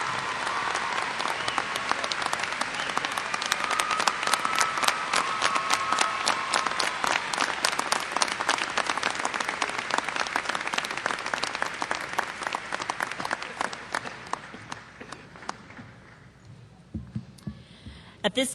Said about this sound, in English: I present them to you for a round of applause.